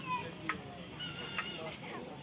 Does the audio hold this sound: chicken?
yes